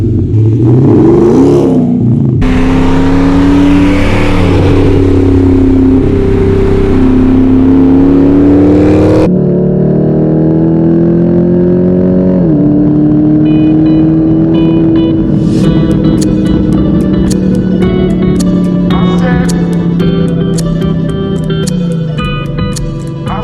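A V8 Hemi engine breathing through a Magnaflow XMod exhaust revs loudly, climbing and falling in long sweeps, then settles into a rumbling idle punctuated by sharper blips, up close and alone throughout.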